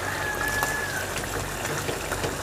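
Onions and chicken with ginger-garlic paste frying in a karahi give off a steady, dense crackling sizzle, close and even throughout, with no one speaking.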